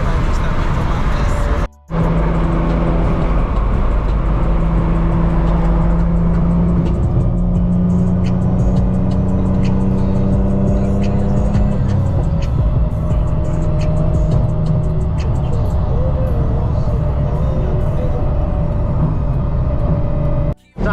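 An 800-horsepower turbocharged Infiniti G37 accelerating hard on a night drive, its engine drone rising and falling steadily with shifting tones, loud and continuous, with a brief cut near the start and road noise throughout.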